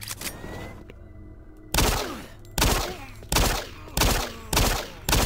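Gunfire in the Doom 3 video game: a brief burst of shots, a short pause, then five loud, evenly spaced heavy blasts about a second apart, each followed by a decaying rumble.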